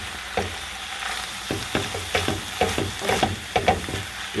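Ground meat with garlic and onion, unseasoned, sizzles in a pan for lasagna while being stirred, giving repeated scraping strokes over a soft, steady frying hiss, close and moderately loud, with no voices.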